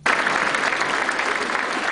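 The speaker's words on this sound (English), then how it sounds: "Dr. Marcus Nelson was met with a standing ovation at the Hispanic Chamber of Commerce Banquet in Waco" Dense, steady applause from a large crowd at a banquet, a standing ovation that swells in at once and holds loud and continuous throughout.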